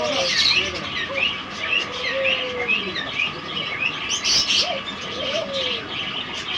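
Caged king quail call repeatedly, soft cooing and chirping notes overlapping against a low, steady background hum, with no talking.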